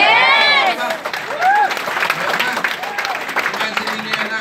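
A live crowd applauds and cheers at a gathering, loud at the start and then settling into sustained clapping while a voice speaks over it.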